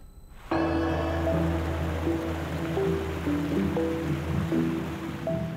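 Krishna river floodwater rushes through a flooded town in a steady, loud roar of flowing water, with a continuous low rumble and no voices.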